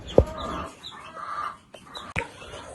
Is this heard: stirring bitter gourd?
no